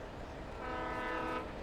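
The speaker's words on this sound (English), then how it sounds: "I guess it was maybe a cue for the train" In the Alan Wake video game, a train horn blares over the rumble of a moving train, a sustained tonal blast swelling for about a second above steady rail noise, heard without talk.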